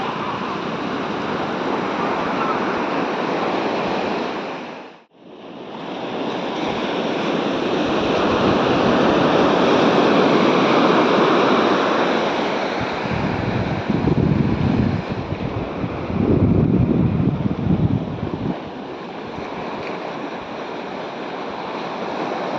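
Waves breaking on a secluded beach, a steady roaring wash of surf with wind buffeting the microphone and a brief dropout early on, with no talk.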